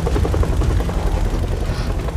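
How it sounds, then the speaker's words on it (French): A helicopter in the Beyond Two Souls video game drones steadily with a loud, dense rotor and engine roar that fills the whole stretch, with no speech over it. "Il faut que je leur jette l'hélicoptère dessus."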